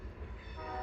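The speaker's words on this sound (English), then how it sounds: "I love the sound of trains." A train passes through the North Idaho wilderness, a steady close rumble with horn-like tonal wails running over it for the whole stretch, with no talking.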